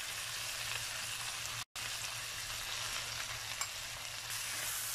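Onions, tomatoes and spices such as turmeric, red chilli, salt and ginger fry on high heat in a pan for masala bhindi, giving a close, dense, steady sizzle with a brief silent cut partway through.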